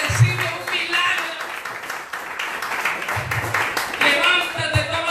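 A church congregation claps during a pastor's sermon, with bursts of applause rising and falling under a loud voice speaking throughout.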